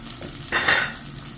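Large green fennel seeds sautéing in hot oil in a pan, giving a steady close hiss of sizzling that swells into a louder, brighter surge of frying and stirring midway before settling back, with no talking.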